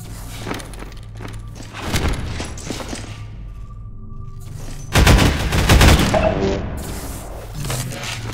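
Magnum revolver fire in a Half-Life 2 Deathmatch match, a few loud heavy shots, with a dense burst around five to six seconds, over steady game ambience and faint footsteps.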